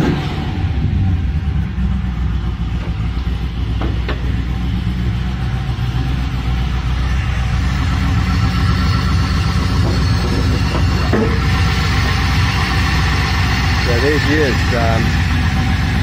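An LS1 V8 fitted with individual throttle bodies runs loudly and continuously, a dense rumbling engine note with occasional rises as it is blipped, while someone talks over it.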